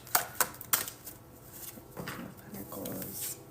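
Tarot cards being shuffled by hand, with a few sharp riffling snaps at the start followed by softer continuous sliding and rustling of the deck, close and fairly loud.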